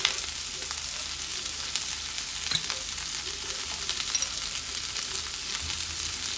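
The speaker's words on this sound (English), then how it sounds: "I'm going to throw in my peppers and onions in here. And I'll add a little bit of more oil." Peppers and onions sizzle steadily in a pan of hot oil for chicken fajitas, a dense, even crackle running throughout with no voices.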